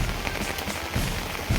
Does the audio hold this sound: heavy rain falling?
yes